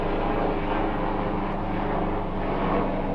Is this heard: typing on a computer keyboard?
no